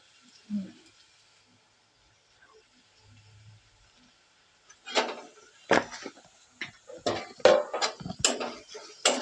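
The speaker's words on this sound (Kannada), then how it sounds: "ಚೆನ್ನಾಗಿ ಮಿಕ್ಸ್ ಮಾಡಿ" A spoon scrapes and clatters against a pan while fried food is mixed with chilli powder, starting with a few faint sounds and turning into a burst of brisk, close knocks and scrapes in the second half, with some talk around it.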